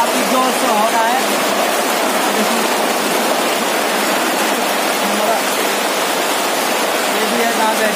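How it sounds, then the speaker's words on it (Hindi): Heavy rain pours steadily in Assam, a loud, dense and unbroken wash of noise close by that holds throughout with no breaks. "घर पे आ गया तो बारिश काफी जोर से हो रहा है"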